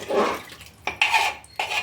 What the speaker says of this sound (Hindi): अब मसालों को अच्छे से मिक्स कर दीजिए।